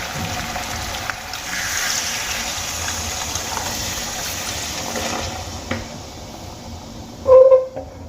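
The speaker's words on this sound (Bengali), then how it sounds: "এবার আমি এর মধ্যে দিয়ে দেব উষ্ণ গরম জল।" Warm water poured into a pan of fried potatoes, peas and paneer, a steady gushing pour running for several seconds before a brief louder splash and settling.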